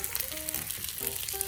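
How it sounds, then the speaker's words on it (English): Large shrimp frying on a Camp Chef FTG600 flat top griddle, with a steady close sizzle and crackle and a few faint whistling tones throughout. "Go ahead, get our shrimp on."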